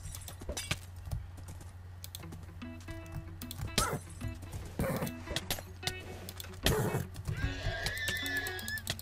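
Horse neighing in the Minecraft-style video game KitPvP, a short whinny among dense clicking of keys and game sound effects, with no talk.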